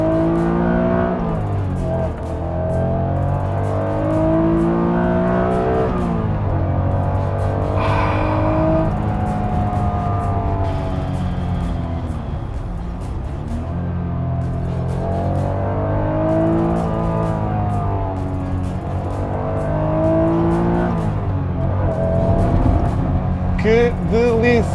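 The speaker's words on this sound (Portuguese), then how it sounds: "Pá, que barulho este VTEC." A yellow Honda NSX's VTEC engine revs up and down repeatedly in rising and falling sweeps, close and loud from inside the car, with someone talking over it.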